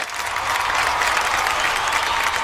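Studio audience at a televised Indian comedy show applauds with a dense, steady wash of clapping and light cheering, continuous and full from start to finish.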